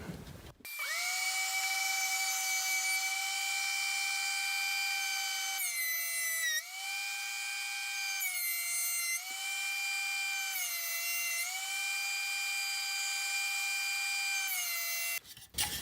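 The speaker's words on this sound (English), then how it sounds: "plane the board down, get it nice and square" A power tool squares up a 2x4 board, a steady high-pitched whine that dips in pitch each time it bites into the wood, close and loud for about fifteen seconds and then stopping.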